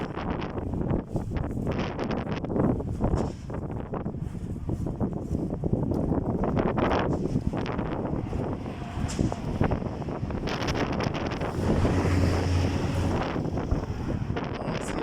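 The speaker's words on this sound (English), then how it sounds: "You hear wind?" Strong wind buffets the microphone continuously in Medjugorje, a loud rushing roar with gusts rising and falling, and water lapping faintly beneath.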